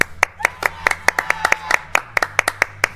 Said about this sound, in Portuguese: bata palmas